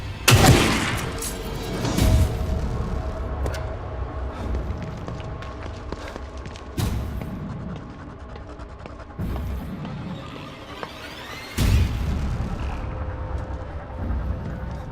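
Gunfire in The Evil Within 2 on Akumu difficulty, with several sharp loud shots spread across the stretch amid dark game ambience and rumbling effects.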